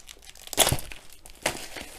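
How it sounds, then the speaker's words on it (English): The plastic cover is peeled off a Diamond Art Club diamond painting kit box: close, crinkly tearing and crumpling in two short bursts, with a quieter rustle between them. "So just peel that cover off, and we'll open up the box, see what we get inside."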